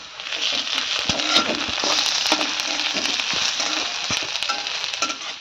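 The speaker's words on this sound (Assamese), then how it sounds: "ইফালে আদা ৰহুন পিঁয়াজ ধুনীয়া কৰি ভাজা গৈছে" Ginger, garlic and onion fry in a dry wok with almost no oil, giving a steady close sizzle with light scraping and stirring clicks throughout, with no voices.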